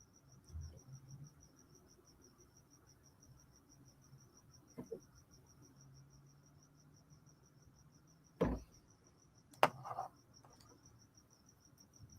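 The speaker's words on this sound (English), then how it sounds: "the crickets are real" Crickets chirp outdoors in a neighborhood at night, a faint, steady, rapid high pulsing that runs throughout, broken by a few close knocks and clicks.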